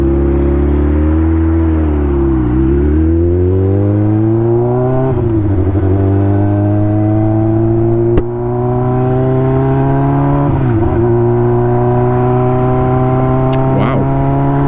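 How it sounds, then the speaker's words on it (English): Dense road traffic heard from a Honda CBR600 motorcycle, a steady loud engine drone with shifting revs and the whir of passing vehicles throughout. "So much traffic."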